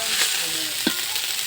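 Cardamom, bay leaf, cinnamon and cloves fry in oil with rice, a short close sizzle with one sharp scrape of a spoon midway and no voices.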